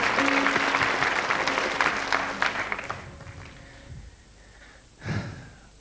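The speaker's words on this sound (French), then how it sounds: "Voilà, on applaudit Marius," An audience in a TV show studio applauds a boy for about three seconds, loud and dense, then fades out, followed by a breath and a short exhale close to the microphone.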